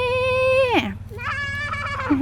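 Ewe bleating loudly and harshly near her lambs, one long drawn-out call that drops off, then a second wavering call, close by over a steady low hum.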